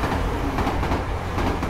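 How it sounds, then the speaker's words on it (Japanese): A train rolls toward a station platform, a steady, loud, continuous rail rumble with no voices. "やばい、電車が接近してる。"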